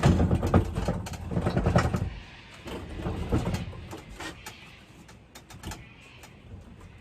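A shop cabinet on newly replaced wheels rolls across the floor with a low rumbling roll, loudest at first, then quieter as it slows and settles against another cabinet.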